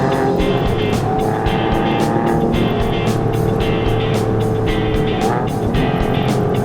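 An air-cooled Porsche 993 engine drones steadily while the car is driven, a continuous close mechanical roar with slight swells in pitch and no talk over it.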